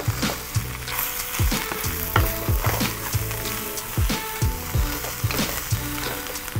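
Wombok cabbage stir-fry being tossed in a hot pan, a steady sizzle broken by repeated clattering scrapes and knocks from the tossing, close and fairly loud with no talk.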